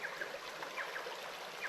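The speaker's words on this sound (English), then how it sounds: "there is something about camping by a river and listening to this" A river flows beside a campsite, a steady close wash of running water with faint trickles and splashes throughout, no voices.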